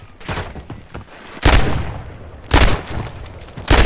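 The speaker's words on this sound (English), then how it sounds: "They're shooting at you right now?" Heavy gunfire in a shooting video game, loud booming shots landing in a few separate bursts about a second apart, close and punchy with game noise between them.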